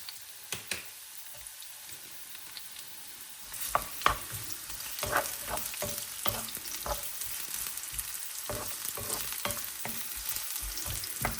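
Onions dropped into hot oil in a pan, starting with a few clicks, then erupting into a steady, fairly faint sizzle with scattered pops and stirring scrapes, close by.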